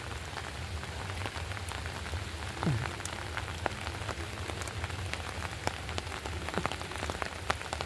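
Steady rain patters on a hard surface, a dense continuous hiss dotted with sharper drips and splashes, with no voices.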